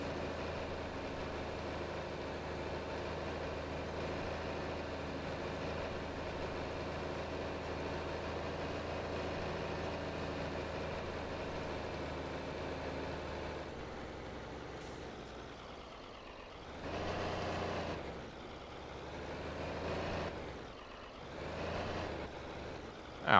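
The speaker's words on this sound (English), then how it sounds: "Tractor's struggling a little bit going up the hill here with this 6-row planter." A tractor in Farming Simulator 22 labours uphill pulling a 6-row planter, its engine drone steady and heavy for most of the stretch before giving way to a few louder surging bursts near the end.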